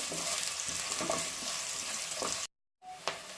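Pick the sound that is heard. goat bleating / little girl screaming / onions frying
onions frying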